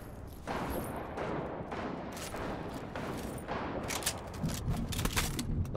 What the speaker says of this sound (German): Wenn mich die Schüsse etwas beunruhigen.